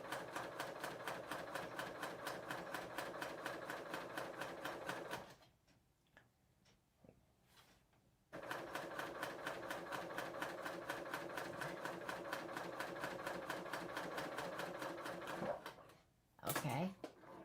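A serger stitches a sleeve hem with stay tape in a steady, fast mechanical whir that runs for about five seconds, pauses, then resumes for several more seconds, with soft handling noises in the gap.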